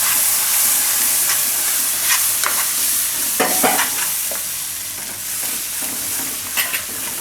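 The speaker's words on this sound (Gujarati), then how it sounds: "દહીં નાખતા જાઉં ને મિક્સ કરતા જાઉં" Yogurt being stirred into a soya chunk curry in a pan over very low heat, with a steady sizzling hiss and repeated scraping strokes of the spoon, close and fairly loud, with no talking.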